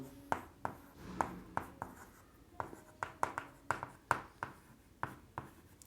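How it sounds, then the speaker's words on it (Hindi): Writing out a math solution by hand, a steady series of about a dozen sharp, close scratchy strokes and taps in a quick, fairly regular rhythm, quiet overall with no talk. "चलो पहले लिख देता हूँ पूरा"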